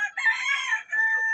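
A Darag rooster crows loudly and close by on a farm, a long drawn-out call with a brief break before it trails off, with no talking.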